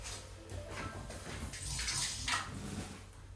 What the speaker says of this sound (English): I'm going to wash my hands and I'll be right back.